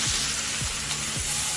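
Loud, steady hissing sizzle of water poured into a hot pan of masala, with a few soft scraping stirs underneath and no talking.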